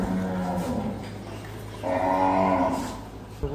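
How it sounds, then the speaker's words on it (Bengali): Cattle low inside a temple cowshed with a deep, harmonic moo, then a second, louder moo after a short pause, close and clear with no talk. "কি বড় বড় আরে গরু রয়েছে"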